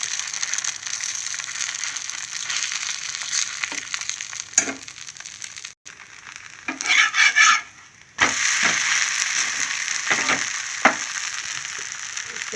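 Dosa batter for a curry-leaf spice-powder dosa sizzles steadily on a hot pan, broken by scraping and spreading sounds and a brief louder hiss, with no one speaking.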